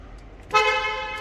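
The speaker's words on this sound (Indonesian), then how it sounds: "ini bunyi klaksonnya gini ya" A single short horn blast from a Mercedes-Benz GLA 200 sounds close by after a moment of quiet background.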